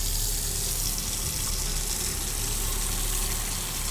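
Water pours steadily into a container during an autopsy lung flotation test in the game Autopsy Simulator, a continuous broadband rushing that stays even and close for the whole stretch with no voices over it.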